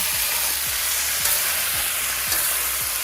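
Garlic and tomatoes sizzle loudly in hot oil in a pot, with a spoon scraping through them in regular strokes that repeat about every half second. No voices.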